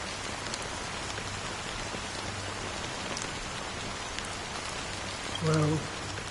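Steady rain falls in a Honkai Star Rail scene, a dense even hiss of drops throughout, with a brief low tone near the end.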